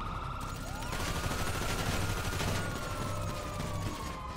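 Rapid bursts of gunfire from a police shootout in GTA 5 crackle over a wailing siren, dense and continuous throughout with no speech.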